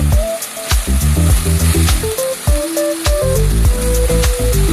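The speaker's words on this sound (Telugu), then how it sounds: "ఇప్పుడు 2 టమాటాలు వేయండి. అవి కూడా ఆయిల్లో బాగా ఫ్రై అవ్వాలి." Tomatoes and slit green chillies frying in oil, loud continuous sizzling and crackling close by, with clinking spoon stirs against the pan.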